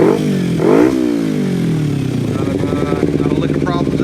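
Kawasaki Ninja 250 motorcycle engine, warmed up after a ride with freshly shimmed carburetor needles, revving up and settling into a steady mid-range drone, loud and close, with a voice speaking over it.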